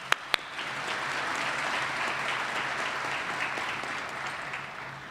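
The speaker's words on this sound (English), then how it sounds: "Let's give them a round of applause." A commencement ceremony audience claps for the faculty, a dense, steady round of applause from a large crowd lasting several seconds after a couple of sharp initial claps.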